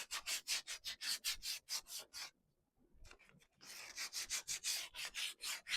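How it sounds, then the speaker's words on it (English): Wood being sanded by hand with 220-grit sandpaper on a thrift-store furniture piece: quick rhythmic rubbing strokes, close and fairly loud, with a short pause midway before the strokes resume. "I also need to sand. So 220 sandpaper."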